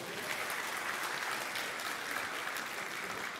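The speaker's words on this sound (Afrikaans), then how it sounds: "Geef hulle 'n lekker hande klap toe." A church congregation gives the band a steady, even round of applause, a dense wash of clapping heard alone and at moderate loudness.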